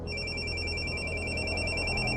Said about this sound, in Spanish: mientras estaba dormido, mi celular comenzó a sonar.